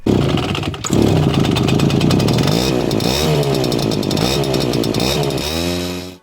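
A motorcycle engine revs loudly and close by, climbing and dropping in pitch through several sharp throttle blips before cutting off.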